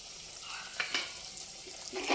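Onion sizzles faintly in hot oil in a pan, a soft crackling hiss with a few brief spatters and stirring scrapes, quiet and close.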